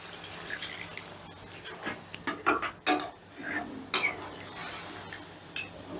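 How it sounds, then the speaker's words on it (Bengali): Chicken in gravy water is stirred in a pan with a utensil, giving scattered metallic scrapes and clinks over soft sloshing, close and moderately loud, with no talking. "চিকেনটা একটু নেড়ে চেড়ে মিশিয়ে দিচ্ছি"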